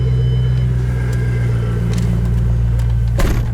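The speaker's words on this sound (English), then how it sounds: "Today we have the 2007 Shelby GT500. This one is not stock Borla, exhaust system, Kenny Bell supercharger." A 2007 Shelby GT500 fitted with a Borla exhaust and Kenny Bell supercharger rumbles close by with a deep, steady low exhaust note and faint supercharger whine, plus a brief clunk near the end.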